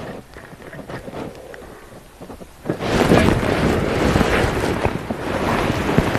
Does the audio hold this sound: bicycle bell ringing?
no